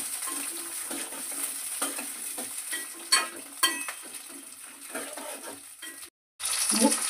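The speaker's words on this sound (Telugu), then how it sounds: "నూనెలో పచ్చిమిర్చి గోలిస్తాను. పచ్చిమిరపకాయలు గోలినాక టమాటాలు గోలిస్తా." Green chillies and tomatoes frying in oil in a pan, a close crackling sizzle with scraping and stirring clatter, several sharper knocks, and a brief gap near the end before the sizzle returns.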